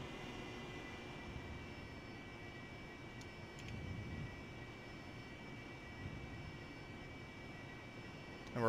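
An AV-8B Harrier jet engine idles in the DCS flight simulator, a faint, steady, even rumble with a low whine that holds throughout and swells slightly near the end.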